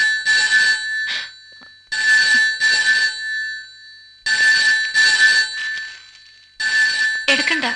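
A telephone rings loudly nearby in repeated trilling bursts separated by short pauses. A brief voice cuts in near the end.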